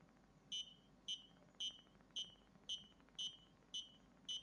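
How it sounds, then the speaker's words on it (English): The Ody robot's obstacle sensor gives eight short, high electronic beeps, evenly spaced about half a second apart, faint and alone against low background noise. "1 beep per half a second now"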